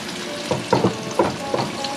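A mushroom and green bean curry cooks in a pan, sizzling steadily with a few louder stirring scrapes and clatters spaced through it, close by and with no talk.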